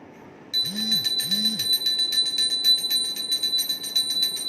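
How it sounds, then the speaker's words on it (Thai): A hand bell rings steadily during a Thai spirit-invocation ritual calling on deities, with a bright, sustained metallic shimmer. Two soft, low swoops sound briefly near the start. "แม้แต่สั่นกระดิ่งก็ยังเป็นอาจารย์โอ"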